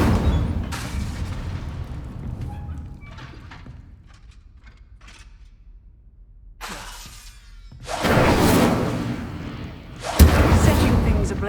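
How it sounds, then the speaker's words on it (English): Incendio fire spell in Hogwarts Legacy igniting objects, crackling bursts and roaring whooshes of flame that grow louder toward the end, with a boom and a voice heard earlier. "Setting things ablaze is certainly cathartic."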